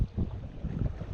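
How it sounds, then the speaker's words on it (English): Wind buffets the microphone out on the water during a fishing trip, a gusty low rumble rising and falling over a short stretch with no voices. "Well, it's just getting windier and windier out here."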